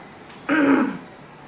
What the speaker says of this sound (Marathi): मला खोकला येतोय, माझा घसा पण बसलाय जरा.